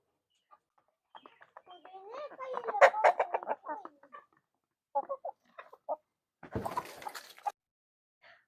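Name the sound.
chickens clucking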